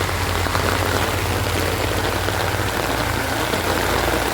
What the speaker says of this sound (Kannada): ತುಂಬ ಮಳೆ ಬರ್ತಾ ಇದೆ.